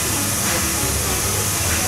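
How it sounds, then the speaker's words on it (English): A pressure valve on a liquid nitrogen tank vents in a loud, steady rush of hissing gas that holds level throughout, close by and with no voices. "So we'll release the pressure valve."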